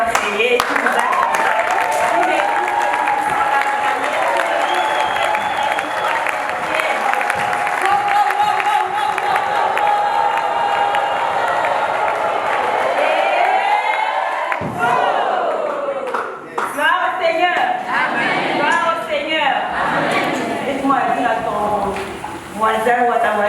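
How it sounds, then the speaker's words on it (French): Church congregation cheering and clapping at a Christian gathering, a loud sustained wash of shouts and applause with a voice carrying over it, then a burst of sharper clapping and whoops. "Je vous demande de vous lever et d'acclamer celui qui m'a créé"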